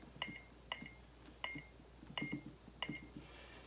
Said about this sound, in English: We push that and hold it till it beeps.